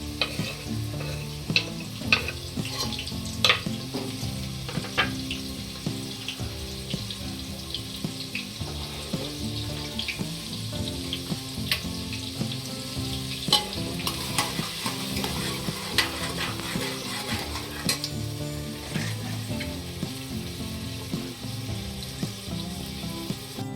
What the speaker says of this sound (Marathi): बघा मी तेल गरम करायला ठेवलं आहे आता आपण कांदा टाकून घेऊया कांदा चांगला लाल होऊन द्यायचा आहे